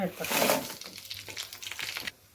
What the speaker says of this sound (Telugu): మిరపకాయలు వేగినాయి చూడండి చక్కగా.